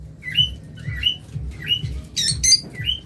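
A pair of caged lovebirds offered for sale give short, shrill squawks and chirps in a regular repeating pattern, close and loud, with a soft rhythmic rustle beneath.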